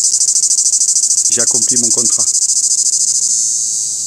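A grey cicada sings in a loud, unbroken high buzz that holds steady from start to finish, while someone briefly speaks in French partway through.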